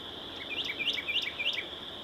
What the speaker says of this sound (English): Got all the birds just chirping away.